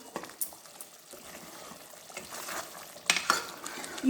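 A spoon stirs fish curry in a pan, soft scraping and bubbling close by, with a couple of sharper clinks against the pan near the end.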